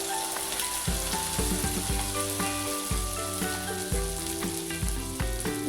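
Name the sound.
sweet corn vadas frying in hot oil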